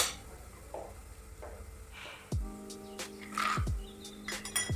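Garlic and cumin paste frying in oil gives a quiet, steady sizzle, broken by several sharp clinks of a utensil against the pan.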